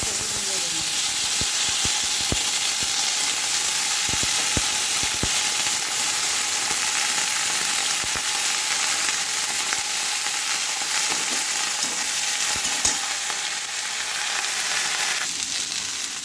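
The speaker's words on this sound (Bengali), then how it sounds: "এইবারে আমি একটু শুকনো লঙ্কা দিয়ে দেব, পাঁচফোড়ন দেব, দিয়ে আর এই সবজিগুলোকে তুলে ভালো করে" Dried red chillies and five-spice seeds crackle and hiss in a little oil with spinach and other vegetables, a loud sustained sizzle punctuated by frequent clicks and pops from stirring.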